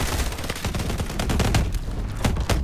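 Rapid gunfire in the shooter game Call of Duty: Advanced Warfare: loud, close bursts of repeated shots crack out in quick succession with no pauses, alone without speech.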